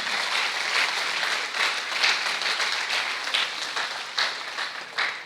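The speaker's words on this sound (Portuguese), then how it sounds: "então se alegre e pode aplaudir o Senhor Jesus, porque ele é digno." Church congregation applauding during a worship service, a steady wash of many hands clapping that swells and dips with a few sharper claps standing out near the end.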